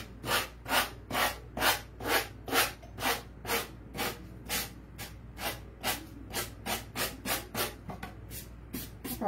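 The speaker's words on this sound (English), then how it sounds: "Probably just sanded my paint off." A painted craft piece is sanded by hand in steady, evenly spaced back-and-forth strokes, each a rasping hiss, about two dozen in a row, close and moderately loud.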